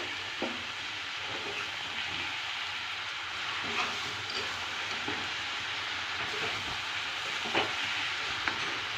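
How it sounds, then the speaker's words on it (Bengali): Boiled cabbage stirred with rohu fish in a pan, a steady broad sizzle with soft, occasional scrapes of the spoon mixing it through. "সেদ্ধ করে রাখা বাঁধাকপি। এটাকে ভালো করে মিশিয়ে নেব।"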